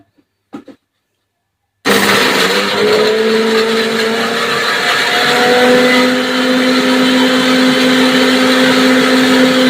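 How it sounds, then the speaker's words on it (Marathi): A kitchen mixer grinder whirs at high speed, grinding green chilli, coriander, garlic and cumin into a paste. A short clatter is followed by a sudden loud, steady motor whine with a slowly shifting pitch as the blades churn. "तर आता आपण मिक्सरमध्ये बारीक करून घेऊ"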